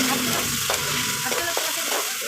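Tomatoes sautéing with onion in a hot pan for adobong sitaw, a steady close sizzle with scraping stirs of a utensil cutting through it.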